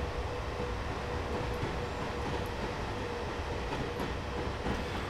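Class 390 train on the Heathrow Express gradually accelerating in Train Simulator 2014, a steady rolling rumble with faint rail clicks and a light whine, moderately quiet and continuous with no talk.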